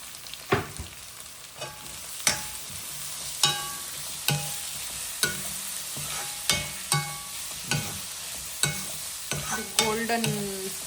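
Onions frying for egg fried rice, a sizzling pan broken by about a dozen sharp scraping strokes of a spatula at a steady, unhurried rhythm, loud and close, without speech.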